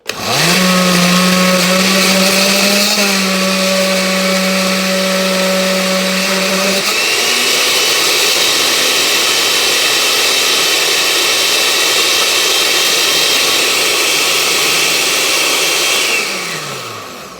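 Blender pureeing a homemade hair treatment, a loud whirring motor that starts abruptly, shifts pitch as the mix churns, runs steadily for about fifteen seconds and then winds down.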